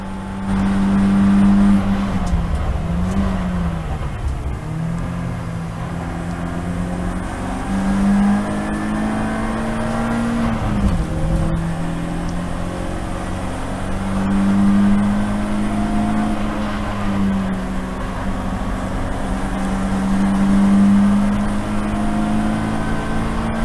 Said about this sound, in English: I need to start to overtake some cars now